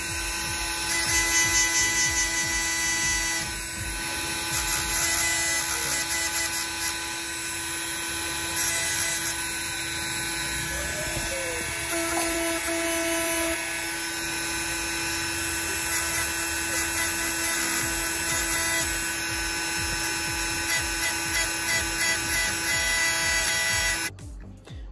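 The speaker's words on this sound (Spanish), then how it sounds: "yo le doy con la máquina para quitarle pintura más rápido que con la mano" A steady, high-pitched electric power sander whine runs throughout, loud and close, with a buzzing motor tone and slight variations as it strips paint from a 1956 Ford pickup truck.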